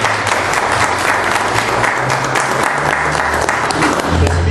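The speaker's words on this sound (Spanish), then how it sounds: "Démosle ese fuerte aplauso de bienvenida." A church congregation breaks into loud, sustained applause of welcome, dense clapping filling the space steadily from start to finish with no voice over it.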